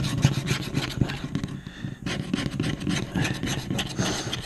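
A California lottery scratch-off ticket being scratched up close, with repeated rough rasping strokes and brief pauses between bursts.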